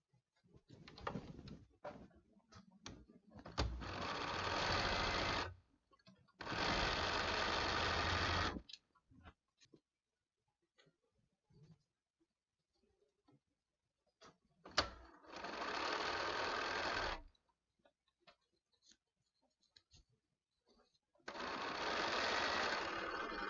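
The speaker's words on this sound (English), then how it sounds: "now I'm going to sew this piece to this piece to this piece" Sewing machine stitching quilt pieces, four loud steady runs of a few seconds each separated by quiet pauses with soft handling noises and a pigeon cooing in between.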